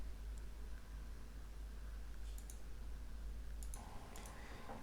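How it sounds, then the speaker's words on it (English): Faint mouse clicks on a Windows 11 computer, a pair of sharp ticks heard twice over a low steady hum. "Just double click on it and that's it."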